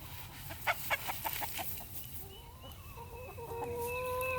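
Backyard hens and a rooster clucking in a series of short, moderately loud calls early on, followed by higher drawn-out calls and chatter from several birds, with steady outdoor background noise.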